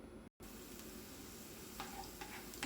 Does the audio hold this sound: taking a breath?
no